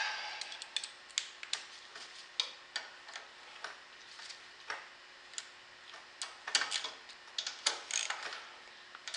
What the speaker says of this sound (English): Now I'm just going to tighten that up with a 5/16 socket.